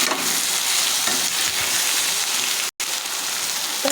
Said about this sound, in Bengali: স্বাদ মতো লবণ, পরিমাণ মতো হলুদ দিয়ে এখন আমি ভালো করে নাড়াচাড়া দিয়ে